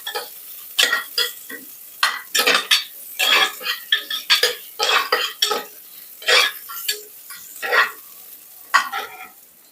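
Ingredients for a South Indian broiler chicken sambar, with curry leaves among them, fry in a pan while a spoon scrapes and stirs. Irregular metallic clinks and scrapes run throughout over a soft steady sizzle, close and fairly loud.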